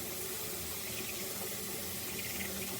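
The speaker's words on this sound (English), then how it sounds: "I'm keeping the water on." Water running from a tap into a sink, a faint steady hiss and splash holding constant across the short stretch, no talk.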